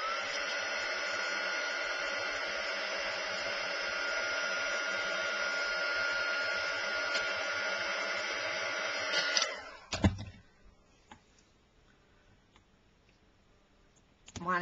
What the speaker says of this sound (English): dump the whole thing in the clear embossing powder and heat it